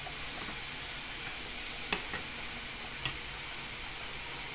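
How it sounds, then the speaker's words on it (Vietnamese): Ingredients for a chicken and mushroom soup stir-fry in a pan, a steady sizzle that runs throughout with a few faint clicks from stirring. "Xào cho nó chín."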